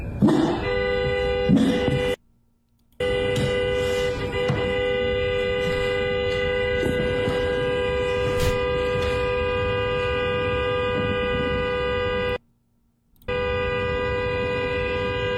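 Car horns honk on a street, sustained and overlapping blasts held for long stretches with two short breaks of silence, loud and fairly close.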